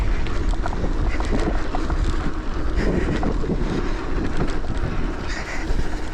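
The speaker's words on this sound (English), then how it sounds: "It's really windy." Heavy wind buffeting a microphone during a cross-country mountain bike ride, a loud continuous roaring rumble with gusty rises and falls.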